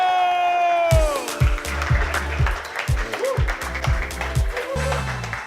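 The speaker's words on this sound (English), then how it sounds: "Let's start clapping. Let's start screaming and cheering." Audience clapping and cheering at a live comedy show, with a drumbeat pulsing under it and a voice calling out over the noise.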